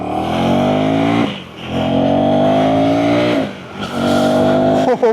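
A KTM Duke 350 motorcycle accelerates hard from a standstill, its engine rising in pitch through two loud upshifts with brief dips between, then climbing again, heard up close.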